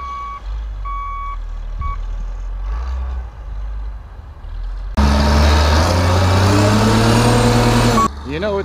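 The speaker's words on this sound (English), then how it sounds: "You know it's getting bad when you have to use a bulldozer or a front end loader to be able to get the snow out of the driveway" Front end loader clearing snow, with regular repeating reversing beeps over a low diesel engine rumble, then a louder surge of heavy engine noise; outdoors at a work site, moderately close.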